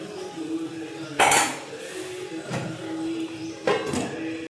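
A metal spatula scrapes and dips catla fish through a yogurt curry in a pan, with several clanking metallic hits, then the lid is set over the pan, all close and without talk.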